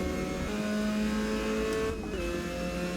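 A race car engine in the Assetto Corsa sim racing game on a qualifying lap out of the final corner, a loud steady near engine drone that dips briefly on a gear change and then holds a lower pitch, with no speech.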